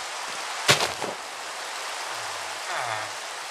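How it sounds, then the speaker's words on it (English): Steady hiss of Minecraft rainfall fills the clip, broken early by a couple of sharp thumps and later by a low rumbling tone. "so here's the rain"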